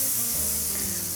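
Butter sizzles steadily in a hot pan with oil from sun-dried tomatoes, a loud, close, continuous hiss with no breaks and no talking.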